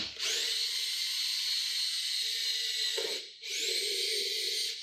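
Power drill spinning a bit in reverse to back out of a pilot hole while fitting a Cuda wake tower to a boat, a steady high whine that drops briefly before spinning up again, close and loud.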